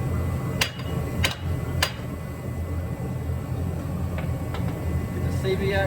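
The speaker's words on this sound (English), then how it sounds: "Big hammer." A big hammer strikes metal three times in quick succession while knocking a Buick CV axle and spindle loose from the shock housing, sharp ringing clanks over a low background hum, followed by a few fainter taps.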